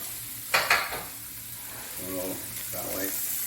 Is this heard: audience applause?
no